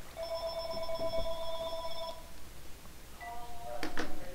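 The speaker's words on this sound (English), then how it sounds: "phone is going off" A telephone rings with a steady electronic tone for about two seconds, pauses, then rings again briefly, faint background noise throughout.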